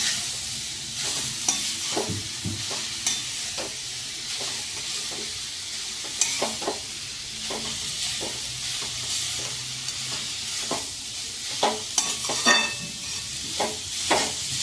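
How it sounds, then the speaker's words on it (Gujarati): Grated carrots for Gujarati gajar halwa roasting over a low flame in a heavy-bottomed kadhai, with a steady soft sizzle and repeated scraping strokes of a stirring spoon throughout, close and moderately quiet. "ધીમા ગેસ ઉપર જ ગાજરને શેકાવા દેવાના."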